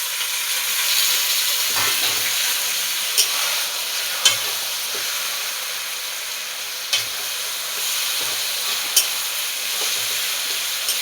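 Onion and chili sizzle and hiss steadily in a hot pan as taro leaves are added, with occasional stirring scrapes and soft clunks breaking through the continuous frying noise; no voices.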